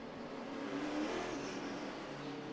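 Race car engines hum and rev along pit road at a short track, a continuous blended drone that swells briefly as cars move past, moderately distant.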